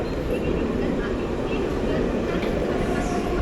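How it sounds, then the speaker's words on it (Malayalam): A 12-car ICF-built slow local train on the Western Railway line rolls into a Mumbai station with a steady, close rumble that swells slightly near the end, with busy platform noise around it. "നമുക്കുള്ള ട്രെയിൻ എത്തി. 12 കാർ സ്ലോ ലോക്കലാണ്, ICF ബിൽട്ട്."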